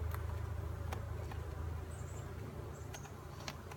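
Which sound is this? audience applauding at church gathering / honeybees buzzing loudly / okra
honeybees buzzing loudly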